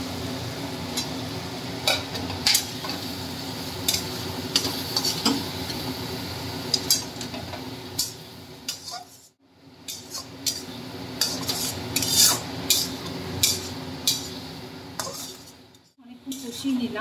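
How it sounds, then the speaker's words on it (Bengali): Fried potatoes are stirred and sautéed with fish in a pan for Bengali-style katla kalia, a spoon scraping and clinking against metal in irregular strokes over a low, steady sizzle. "এরপর আমি একটু এর মধ্যে আলু দিয়ে দিচ্ছি, ভাজা আলুগুলো দিয়ে একটু কষিয়ে নিচ্ছি।"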